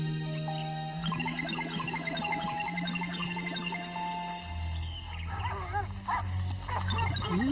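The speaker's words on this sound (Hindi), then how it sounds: "अचानक से ये कुत्ते कहाँ से आ गए?" Several dogs abruptly bark, yip and whimper in an animated scene, loud and close, layered over sustained musical tones, with the yelping growing busier toward the end.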